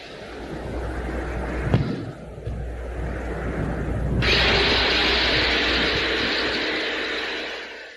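Original sound of a Venera 13 or 14 lander drilling the Venus surface: a steady, loud, broadband roar with a brief thump early on. A harsher hissing layer joins after about four seconds and fades near the end, with no speech.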